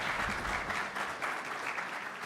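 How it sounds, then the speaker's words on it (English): Conference audience applause, a brief, moderately quiet and steady patter of many hands clapping together with no talk over it. "Let's give a round of applause to the iCard team."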